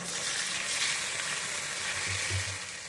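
Urad dal and potato vadas fry in hot oil over medium heat, giving a continuous close crackling sizzle with a few soft bubbling pops near the end.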